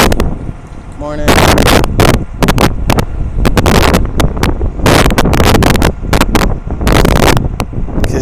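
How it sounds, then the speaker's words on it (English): Strong wind buffets a microphone on a windy glacier, with loud, continuous rumbling gusts and bursts that overwhelm everything else for the whole stretch. "it's just gonna be the condition of this stream, because it's extra windy on the glacier too"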